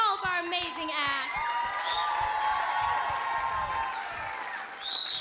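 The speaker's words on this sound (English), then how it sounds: "Let's give one more round of applause to all of our amazing acts." Audience at a school variety show, a crowd cheering and whooping with scattered clapping, loud and close, mixed with voices and shrill excited shouts throughout.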